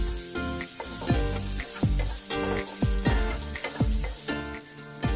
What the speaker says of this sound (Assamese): মই জালুকৰ গুড়াকণ দি দিম আৰু ভালকৈ লৰাই ল'ম